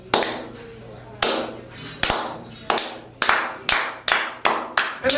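A single person claps hands sharply in a slow, uneven rhythm, about nine loud, close claps, imitating the way wrestling fans clap at every match.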